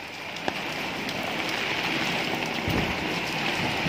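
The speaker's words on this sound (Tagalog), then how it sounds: "Lakas na naman po ng ulan." Heavy rain pours down steadily outdoors, a dense continuous hiss of drops on surfaces with occasional louder splashes, close and loud throughout.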